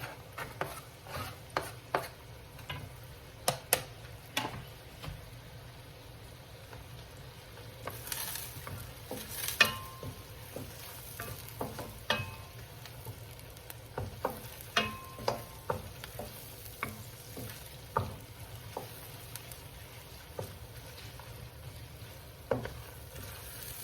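Garlic sizzles steadily in a hot pan while a utensil stirs and scrapes it in frequent short strokes, the frying hiss constant underneath with no talking.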